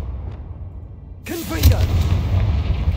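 A Bombarda blasting spell cast in Hogwarts Legacy bursts in suddenly after a quiet stretch, a single deep booming blast with a rumbling tail, a voice calling out over it.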